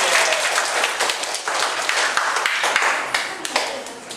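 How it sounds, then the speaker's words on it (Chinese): A classroom of primary school pupils bursts into sustained applause during a maths lesson, a dense, steady patter of many hands that runs the whole time with faint voices mixed in. "来，掌声鼓励。"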